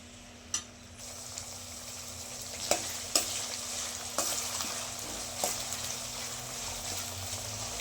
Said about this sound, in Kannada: ಒಂದೆರಡು ನಿಮಿಷ ಫ್ರೈ ಆಗಲಿ